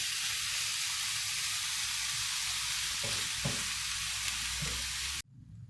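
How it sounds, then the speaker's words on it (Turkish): Meat sizzles in a cast-iron pan as it cooks in its own juices, a loud, continuous frying hiss broken by a few scraping stirs before it stops abruptly. "etlerimiz kendi suyunu salıp tekrardan suyunu çekene kadar pişirelim"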